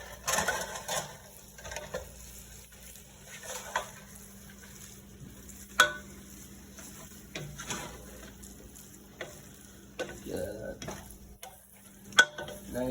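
Sliced andouille sausage goes into a gumbo pot and is stirred through, giving soft, close sizzling with intermittent scraping spoon strokes at a fairly low level.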